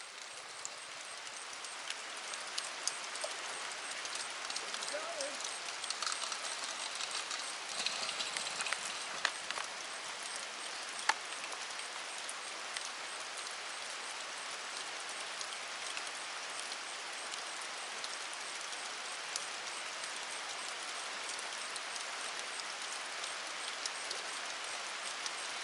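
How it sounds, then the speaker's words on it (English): Rain comes down outdoors as an even, sustained hiss, fainter and more diffuse, with a few isolated clicks and taps standing out over a long steady stretch. "Hurry up, it's raining"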